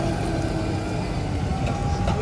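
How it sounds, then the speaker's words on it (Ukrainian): A tractor pulls away across a field during an agricultural field day, its steady low engine rumble continuous and fairly loud throughout with no talk over it. "Трактор пішов."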